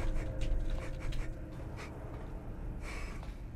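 The Roxy animatronic in FNAF Security Breach sniffing, a few short quick breathy snorts and pants over a low game rumble, fairly faint, with no talking.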